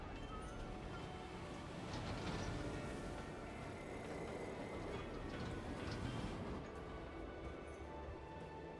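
A subway train in the Planet Coaster 2 game rumbles and rattles past in a steady, moderately loud rolling wash with metallic clatter, fairly close, no talk over it.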